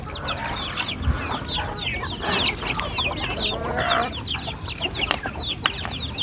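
Busy native chicken sounds: many short, high chirps and clucks from chicks overlap continuously, close by, with a steady outdoor background and no talking.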